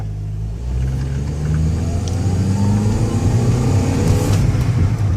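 A 2005 Honda Element with a 4-cylinder engine accelerating around a parking lot, its engine note rising steadily from a low rumble to a louder, climbing drone, heard from inside the car with no talking.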